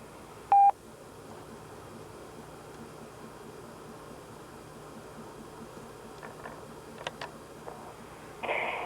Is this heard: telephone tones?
yes